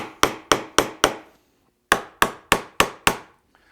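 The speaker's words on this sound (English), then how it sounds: "then I'm going to nail that template on the back side" A hammer drives nails into a template on the back of a wooden door rail. Two close runs of four and five sharp, evenly spaced blows are split by a pause of under a second, with no talking.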